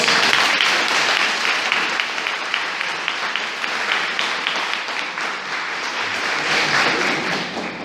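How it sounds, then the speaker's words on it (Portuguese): Sustained applause from a church congregation praising God during a service, a dense and steady roar of many hands clapping that continues throughout without pause. "Vamos aplaudir o nosso Deus."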